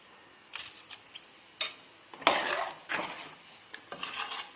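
A spoon stirs poricha kuzhambu in a cooking pot, giving a series of irregular scraping and clinking strokes against the metal, close and fairly quiet, with brief pauses between stirs and no talking.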